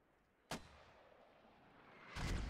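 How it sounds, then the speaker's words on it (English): Two mortar rounds in the game Squad hit at a distance about two seconds apart, a sharp crack followed by a heavier, rumbling boom. "Oh yeah, he's bracketing mortars."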